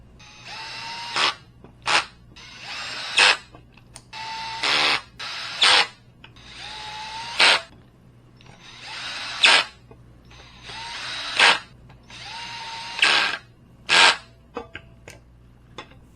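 Short bursts of a power driver sinking the arm screws on a mid-back office chair, several whirring runs of about a second each with brief gaps between, close and fairly loud.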